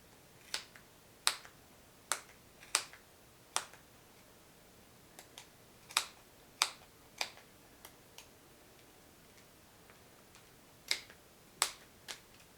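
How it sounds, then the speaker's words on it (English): Sharp scissors cut yarn with crisp, sharp snips repeating at uneven intervals, about twenty in all, close and clear over a quiet background. "that is right where we want to cut with a good pair of sharp scissors"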